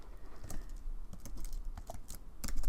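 Rapid typing on a computer keyboard, a dense run of sharp close key clicks with uneven rhythm that picks up toward the end, entering a Linux terminal command, with no voice.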